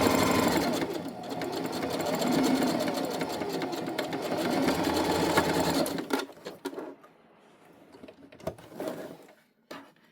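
A sewing machine hums in a continuous fast run while sewing the side seam of an unlined tote bag, then stops and gives way to quiet handling noises and a few soft clicks.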